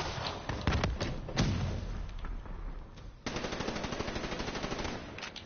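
Call of Duty: Black Ops gameplay gunfire: rapid machine-gun bursts and scattered single shots with thumping impacts, a fairly steady stream of fire at moderate distance with no talk.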